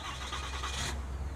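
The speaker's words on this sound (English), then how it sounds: "Yeah, that's a beautiful sound, a big diesel engine." A 2023 Ram 2500 big diesel truck engine cranking on remote start: a loud, close, broadband churn for about a second that settles into a low steady rumble.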